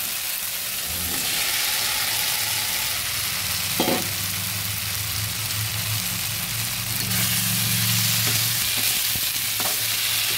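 Peas and potatoes go into a hot pan of softened tomatoes for Bengali ghugni, a dense continuous sizzle with a low rumbling hum beneath and a few soft knocks as they are tipped in and stirred, close and steady, with no talking.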